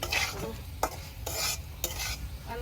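River prawns frying in a pan, with a soft sizzle under repeated scraping stir strokes of a utensil, a few sharp clicks among them, close and fairly quiet, no talking.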